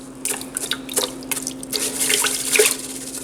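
Rice being rinsed under a running tap, close splashing and trickling water with irregular drips and sloshes over a faint steady hum.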